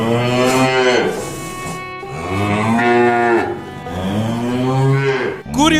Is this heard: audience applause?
no